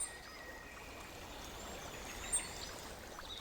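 A river flowing steadily at night, a faint continuous wash of water with a soft hiss, quiet and distant, with a brief small splash partway through and faint bird-like chirps above.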